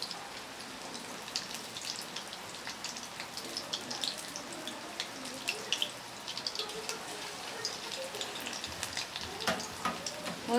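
Small cabbage pakora fritters fry in hot oil, a continuous crackling sizzle with scattered sharp pops, close and fairly quiet.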